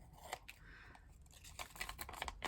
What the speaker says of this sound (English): Then I take my scissors and I cut